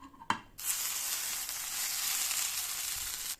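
A potato rösti fries in a pan with a loud, continuous, close sizzle that starts right after a short knock and clatter.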